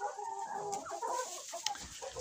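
Pushkin breed hens, young June-hatched birds not yet laying, cluck steadily and fairly close in a farm yard, with soft overlapping calls and a short sharper note near the end.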